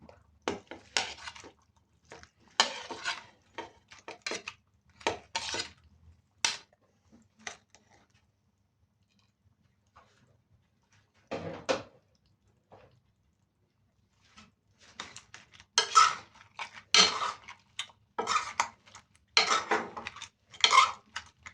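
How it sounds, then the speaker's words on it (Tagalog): Shrimp are stirred into butter garlic sauce in a small cooking pot, producing clustered scraping and clinking of a utensil against metal in bursts, with a quiet pause midway and denser stirring afterward. "So ngayon mga kanilin, ihalo na rin po natin yung ating shrimp."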